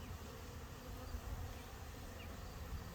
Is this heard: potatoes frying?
no